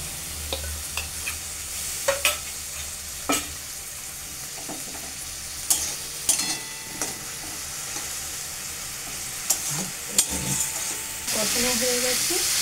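Water-thinned paste of chilli powder, cumin, turmeric and salt poured into a pan of frying drumstick curry with asafoetida, giving a steady sizzle with scattered stirring clinks, then a louder burst of hissing near the end.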